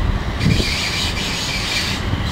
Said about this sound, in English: There's a train up there going.